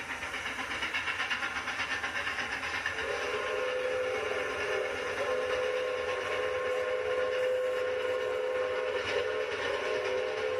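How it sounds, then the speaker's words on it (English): A train rumbles steadily along the rails with a continuous broadband roar, and a sustained whistle sounds partway through and holds to the end. "All travel by train to the East Zone of India."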